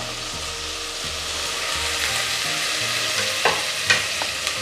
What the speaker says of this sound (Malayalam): ഇനിയെല്ലാം നമുക്ക് നല്ല പോലെ ഒന്ന് വഴറ്റിയെടുക്കാം